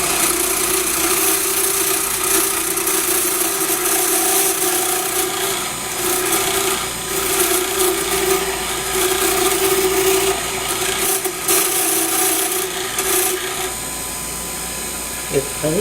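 A skew chisel cuts wooden chopsticks on a spinning lathe, giving a continuous whirring hum with a light scraping rasp. Someone talks quietly over the steady machine noise.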